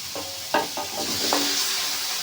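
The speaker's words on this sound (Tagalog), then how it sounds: "Tapos, ilagay po natin yung chicken." Chicken leg pieces dropped into a pan for adobo with ginger, frying with a steady sizzle and a few stirring clunks and scrapes, close and alone.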